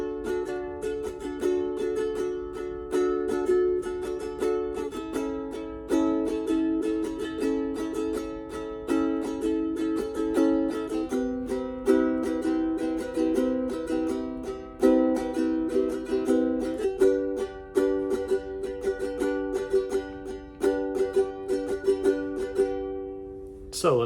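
Steady strummed chords on a ukulele, played in an even rhythm that shifts between a few chords, with no voice.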